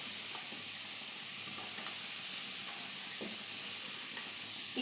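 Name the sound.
stirring carrots frying in a pan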